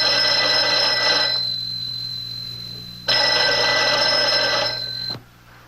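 A house telephone rings in two long bursts separated by a pause, loud and near, with an old-fashioned electric bell tone and no voices.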